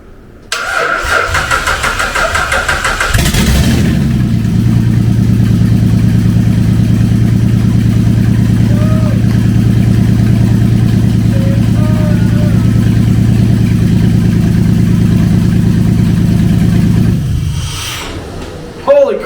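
A Jeep Liberty, just fitted with a relocated fuel tank, cranks briefly and fires, then settles into a loud, steady idle close by for about fifteen seconds before shutting off.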